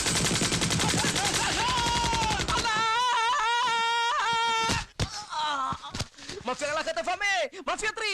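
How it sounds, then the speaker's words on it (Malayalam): Loud crackling bursts of firecrackers, taken for gunfire in a Malayalam film scene, fill the opening seconds as a dense rattling volley, then give way to shouting voices and scattered pops. "പടക്കം പൊട്ടിയപ്പോ ഞാൻ വിചാരിച്ചു എന്നാരും വെടിവെച്ചിട്ടതാണ്"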